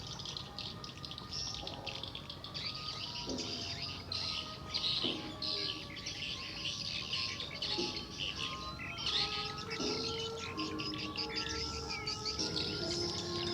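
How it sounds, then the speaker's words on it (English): Recorded birdsong plays continuously from a speaker beside flooded fields in Cambodia: many overlapping chirps and tweets over a steady, hissy, watery background, moderately loud and unbroken. "They play the recording of the birds to attract the real birds"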